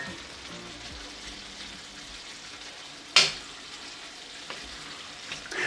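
Cooked rice is added to a stuffed bell pepper filling simmering in a pan, with a low sizzle and a sharp scrape or clatter of the pan near the middle, then quieter stirring noises.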